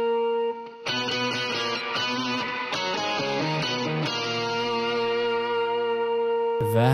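An electric guitar through a drive effect on a Quad Cortex, a sustained note followed by a run of distorted, effected notes and ringing chords, loud and steady with no talk.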